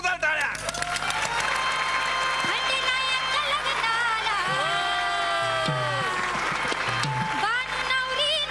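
A studio audience on a Marathi television comedy show claps for a stage guest, a steady, full wash of applause sustained throughout, with musical tones and brief talk over it.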